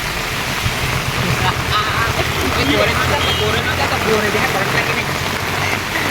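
Heavy rain pours in a flooding village, a loud dense continuous wash of noise with some wind, while a voice talks over it.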